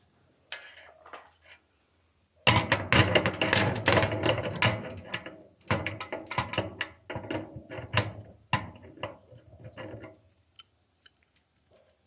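Screws being driven back into the casing of an Electrolux EDV-605 6 kg sensor dryer, heard as close clicking, ratcheting and rattling bursts that come in irregular clusters with short pauses between them.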